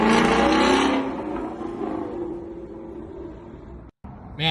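A built-up Ford Mustang roars loudly close by as it pulls away down the road, the engine note strong at first, then easing into a steady drone before a brief cut.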